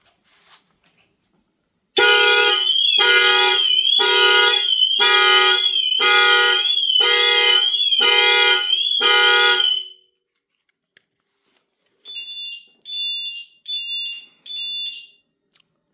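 A car alarm blares through the vehicle's horns in eight rapid, evenly spaced loud honks, then silence, followed by four shorter, quieter horn bursts, all close and harsh.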